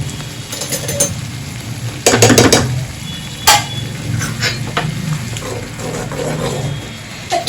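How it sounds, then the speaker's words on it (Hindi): Khoya paneer gravy sizzles as it fries in a pan, a constant close hiss punctuated by a few loud clattering scrapes of the spoon against the metal. "तो हमारी ग्रेवी भुन रही है"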